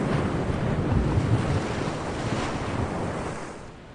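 Steady roar of ocean surf and wind, waves washing continuously without pauses, fairly loud and close with no voices.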